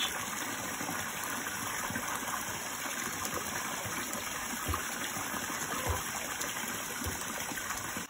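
Water pours steadily into a shallow backyard pond being drained and repaired, a faint continuous gushing splash with no voices.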